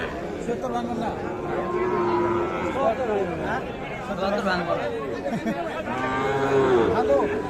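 Sahiwal cattle moo repeatedly at a busy livestock market. The drawn-out lowing calls overlap with constant nearby chatter and people talking.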